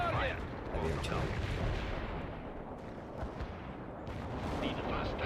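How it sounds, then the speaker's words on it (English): Heavy artillery fire in the strategy game World in Conflict sounds as a continuous rumbling barrage of booms and blasts, dense and steady throughout, with faint voices mixed in. "Heavy artillery."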